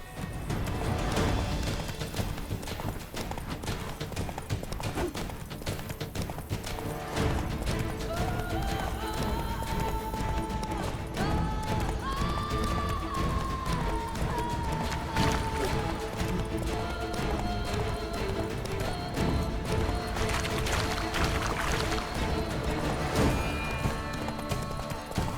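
The horse Roach gallops in The Witcher 3: Wild Hunt – Blood and Wine, hooves clip-clopping in a fast, steady rhythm, loud and close, over continuous game music.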